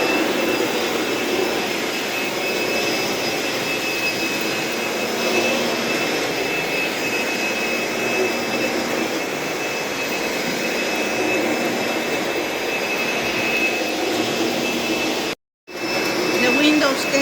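Vacuum cleaner running steadily while someone vacuums a floor during house cleaning, a constant loud whine and roar filling the whole stretch, cutting out briefly near the end before resuming.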